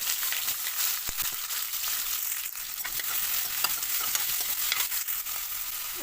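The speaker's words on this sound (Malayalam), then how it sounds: "ജീരകം ഇട്ട് അതൊന്ന് മൂത്തതിന് ശേഷം നമുക്ക് കുറച്ച് സവാള അരിഞ്ഞ് ഇട്ട് കൊടുക്കാം" Chopped onions frying with cumin seeds in hot oil for an eggplant curry, a steady, close hiss and crackle with occasional light stirring clicks.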